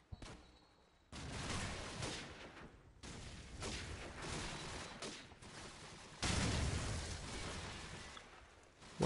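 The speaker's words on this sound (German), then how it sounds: "Man hört schon die Sniper, ey." Sniper rifle shots and heavy gunfire from Call of Duty 4: Modern Warfare, a near-continuous barrage of loud blasts after a quiet opening second, with a further surge of firing around the six-second mark.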